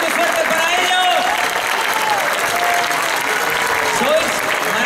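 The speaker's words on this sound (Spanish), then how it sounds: "Maika, Javi, Isidro, Rubén, un aplauso muy fuerte para ellos." Audience clapping warmly after a performance at an anniversary gathering of Aragonese cultural centres, dense sustained applause filling the room, with voices and calls mixed into the crowd.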